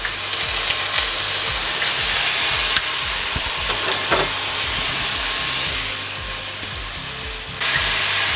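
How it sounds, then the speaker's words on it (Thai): Mushrooms stir-fried with fish sauce in a hot pan make a loud, steady sizzle and hiss, with repeated scraping stir strokes close up throughout. "ผัดให้เข้ากัน"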